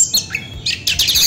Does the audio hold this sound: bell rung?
no